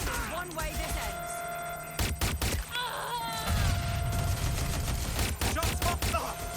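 Gunfire in a shootout in the video game Watch Dogs: Legion, loud sharp shots in bursts around the middle and end, mixed with game sound effects and voices talking.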